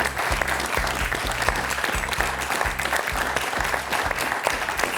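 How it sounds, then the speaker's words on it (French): A television quiz show studio audience applauds steadily over a rhythmic, pulsing music bed, with sustained clapping at a moderate, even level. "Applaudissons Fabienne."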